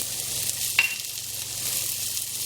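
Chili, turmeric and coriander powder hiss and sizzle in a hot pan with oil, a steady close frying sound with one brief sharp clink of a utensil early on, no talking.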